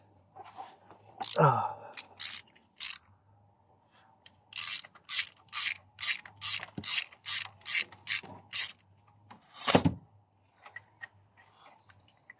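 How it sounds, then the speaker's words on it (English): A ratchet with a 16mm tube socket clicks in a quick, even series while loosening the spark plug on a Polo Vivo, close and crisp, with a couple of louder clunks and scrapes around it. "So I'll be using a 16mm tube socket to remove the spark plug inside."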